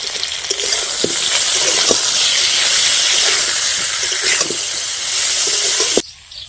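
Potatoes and eggplant frying in hot oil in a pan for a puti fish curry, a loud, steady broadband sizzle with a few faint utensil taps, cutting off abruptly near the end.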